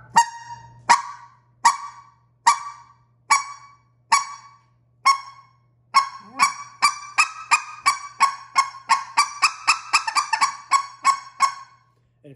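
A specklebelly goose call blown by hand gives sharp, loud clucks, spaced evenly at first, then speeding into a rapid rolling run of overlapping honks, close and alone.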